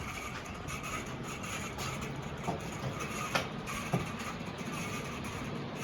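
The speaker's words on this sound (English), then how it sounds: "obviously it makes the bearing noise" A 48-inch Dayton Leading Edge industrial ceiling fan runs on high speed with a worn bearing, giving a steady, faint whir and hiss broken by a few soft ticks and knocks.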